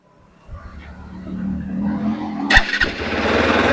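A Hero Xpulse 210 motorcycle engine starts and runs close by, a low rumble that builds and grows louder, cut by a sharp burst of noise partway through, with voices talking over it.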